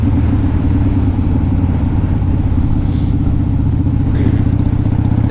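A 2002 Harley-Davidson Dyna Wide Glide motorcycle idles steadily and close by, with a deep, loud, continuous rumble and a lumpy, pulsing rhythm throughout. No talking is heard.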